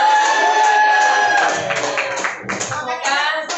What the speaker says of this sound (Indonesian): Tepuk tangan sekali lagi buat Bu Eka.